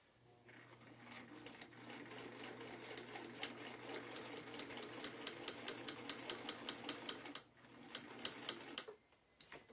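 A sewing machine runs steadily for most of the time, stitching along an existing seam of a denim jacket under alteration, with a continuous motor hum and rapid repeated needle strikes before it stops near the end.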